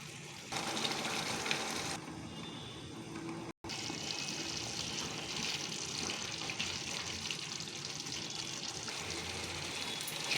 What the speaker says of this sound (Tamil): கொஞ்சமாக 1/4 கப் அளவு தண்ணி விட்டு கலந்து விட்டு மூடி வேக வைக்கணும்.